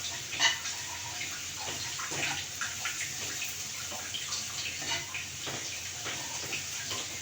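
Hot water pours steadily into a gram flour curry, a soft continuous liquid rush with faint gurgles and small splashes.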